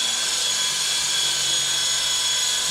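A WL Toys V913 brushless RC helicopter comes in to land close by, its steady high-pitched rotor and motor whine droning on without a break, alone and with no talk.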